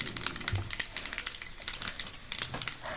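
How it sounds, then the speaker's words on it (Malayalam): Mustard seeds and dried red chillies frying in hot oil for a Kerala-style sambar, a faint, steady crackle and sizzle with scattered small pops throughout. "അപ്പോൾ നമ്മുടെ സാമ്പാറിന് ആവശ്യമായ കടുകും ഇതൊക്കെ വറുത്തെടുത്തിട്ടുണ്ട്"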